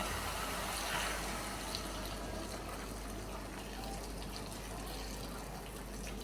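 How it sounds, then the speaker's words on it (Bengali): Hot water pours steadily into a cooking pot of vegetables for a Jagannath temple bhog dish, a soft continuous gushing splash heard close and fairly quiet. "এখন দিয়ে দিচ্ছি গরম জল"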